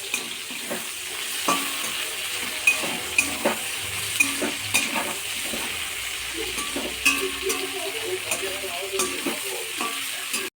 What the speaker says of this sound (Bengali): সমস্ত সবজিগুলোর ভাজা হয়ে গেছে